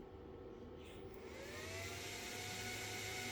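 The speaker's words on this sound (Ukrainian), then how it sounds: "Вентилятори стартанули, начебто як під зарядку." Cooling fans in a Mexxsun uninterruptible power supply spin up under repair, a steady whirring hum that rises and settles into a constant loud drone with rising tonal whine, no voices.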